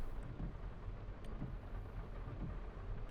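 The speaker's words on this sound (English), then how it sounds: "It is raining. Pretty loud." Steady rain hisses throughout in Farming Simulator 25 while low thunder rumbles roll in and out beneath it, with no voices.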